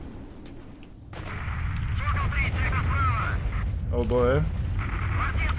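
A deep, continuous rumble fills the air during a blowout emission event in STALKER: Shadow of Chernobyl. It swells and holds steady while someone speaks briefly over it.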